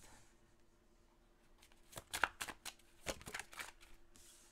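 Tarot cards being shuffled in a short burst of riffling and slapping strokes, quiet at first, then a dense flurry of crisp, close papery flicks with a few separate card snaps toward the end.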